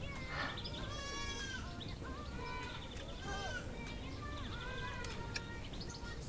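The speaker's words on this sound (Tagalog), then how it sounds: "Naririnig yung mga kambing," Goats bleating near a caravan at a campsite, several wavering cries one after another at moderate distance over a steady background hum, with bird chirps and faint voices mixed in.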